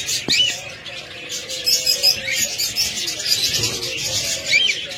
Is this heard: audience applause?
no